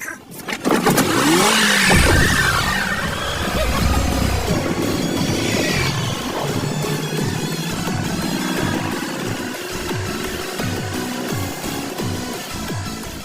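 A racing car engine roars and accelerates in a film race scene, loud and continuous throughout, with revving surges and a busy soundtrack layered over it.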